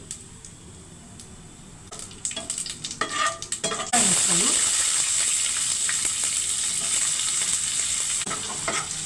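Cumin and mustard seeds crackle and spit in three tablespoons of hot oil, building from scattered pops to a loud, steady sizzle after a few seconds, close and continuous to the end.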